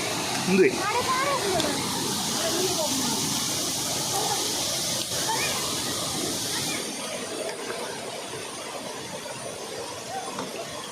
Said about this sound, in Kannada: ಇದು ಎಲ್ಲಿಯ ಫಾಲ್ಸ್ ಎರ್ಮೈ ಫಾಲ್ಸ್